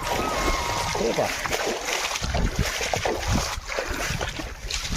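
Water splashes and sloshes steadily as someone wades through flowing water along a rural farm path, with a voice talking over the continuous wet churning throughout.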